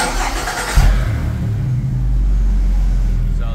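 A GM Gen V 6-liter V8 cranks and catches, then settles into a steady, loud, close idle rumble with a deep low drone and no talking.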